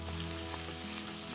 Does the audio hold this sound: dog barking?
no